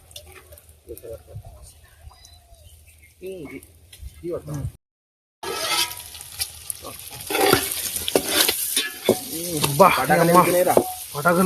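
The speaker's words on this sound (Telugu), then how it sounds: "ఇప్పుడు నూనెలో వేసుకొని ఫ్రై వేసుకుందాం ఫ్రై చేసుకుందాం" Boiled chicken gizzards frying in hot oil with chili powder, a sizzle that builds into loud crackling and stirring after a quiet start where a person talks, with a brief silent gap midway.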